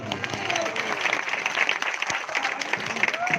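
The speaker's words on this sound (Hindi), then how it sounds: "यदि आपने माफ कर दिया हो तो एक बार जोरदार ताली बजा दें आप।" Audience applause at a final-round bhajan singing competition, a dense steady wash of many hands clapping at moderate loudness with crowd murmur and voices mixed in throughout.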